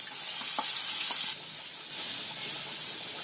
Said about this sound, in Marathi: आता याच्यामध्ये कांदा टाकते, कांद्याची पेस्ट,